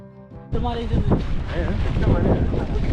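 Wind blows strongly across the microphone on a rainy, cold, misty mountain trek at Meesapulimala, a steady rushing roar arriving abruptly after a quiet start and holding loud to the end, with a voice talking over it.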